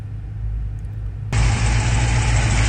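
A Dodge Challenger with a cammed 392 6.4 engine cranks over with a low churning whir, then abruptly fires into a loud, rough, full-bodied rumble, recorded up close with no talking.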